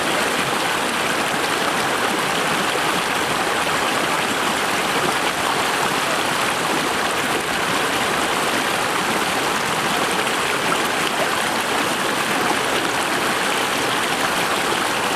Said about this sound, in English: Actually, a little waterfall in there.